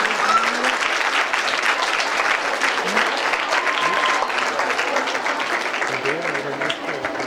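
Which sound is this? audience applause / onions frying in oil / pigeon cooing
audience applause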